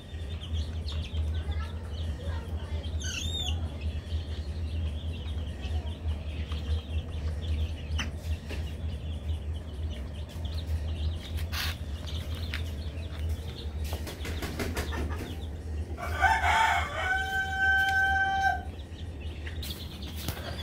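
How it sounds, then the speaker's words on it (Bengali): Farm chickens and a broiler hen calling among brooding chicks, with scattered clucks, a brief flutter and a louder crowing-like call near the end over a steady low hum. "হয়তো আপনি শুনতে পেয়েছেন শব্দটা শুনতে পেয়েছেন, ওই উনি যে ডাকছে ফার্মি মুরগিটা মুরগির মতো ডাকে।"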